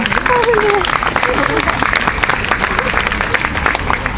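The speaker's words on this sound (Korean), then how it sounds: "큰 박수로 다음 무대 청해보도록 하겠습니다." Audience applause at the 2022 Ansan Jarakgil cherry blossom outdoor concert, a loud, sustained patter of many hands with a voice speaking over the start.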